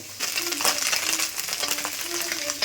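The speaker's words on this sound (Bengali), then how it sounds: "আর এখন মাছ ভাজা চলছে" Fish and prawns frying in a home kitchen pan give off a steady close crackle with small pops and spits running throughout, without voices.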